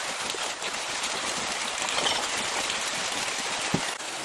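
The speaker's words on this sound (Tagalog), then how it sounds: "ang lakas na yan ng ulan." Heavy rain in the Philippines, with high wind, falling as a steady, dense hiss that is constant and even throughout, without voices.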